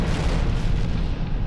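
A massive explosion for a documentary on nuclear-scale blasts, heard as a loud, deep, sustained rumbling boom that fills the whole moment and fades only slightly at the end.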